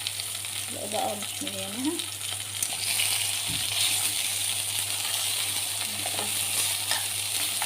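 Eggplant slices frying in plenty of oil in a pan, a steady close sizzle with broad hiss running the whole time, a low constant hum underneath and a few brief clatters, with a short spoken remark early on.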